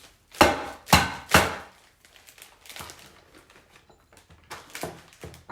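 Three sharp cracking snaps in quick succession as almond bark is broken, then quieter crinkling and rustling with a few softer snaps, close by.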